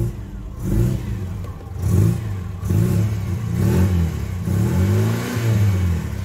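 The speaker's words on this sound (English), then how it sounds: "That is the sound of a Mark II Fiesta" A Mark II Ford Fiesta engine revs repeatedly, rising and falling in a series of throaty bursts close by, with no talking.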